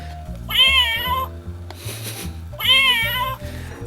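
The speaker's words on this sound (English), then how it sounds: "And so it's a meowing device." An electronic meowing device built into an Exploding Kittens game box gives two loud, close, drawn-out cat meows separated by a brief pause, with a low hum between them.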